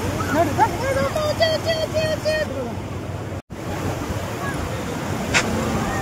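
Steady roar of surf washing in, with children's voices and chatter over the top and a brief dropout partway through.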